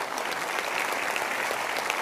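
Studio audience applause on an Indonesian television talk show, a dense, steady wash of clapping filling the whole stretch without any voices.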